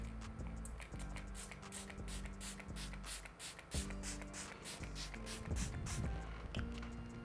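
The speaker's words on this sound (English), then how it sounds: "We're going to be using this Miss Matic's Silhouette the matte finish. I'm just shaking it up and I'm going to spritz it." A Miss Matic's Silhouette matte setting spray is spritzed in a rapid series of short, crisp hissing bursts, close to the microphone, over steady background music.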